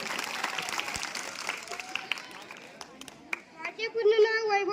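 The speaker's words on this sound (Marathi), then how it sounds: "दोन्ही स्पर्धकांचं टाळ्या वाजून आपण स्वागत करू" An audience at a debate competition applauds with a burst of scattered clapping that thins out, and then a voice begins speaking.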